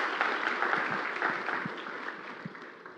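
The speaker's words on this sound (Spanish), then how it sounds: "Dale un aplauso a Cristo fuerte." Church congregation at a sermon service clapping together, a sustained wash of applause from many hands that slowly eases over three seconds.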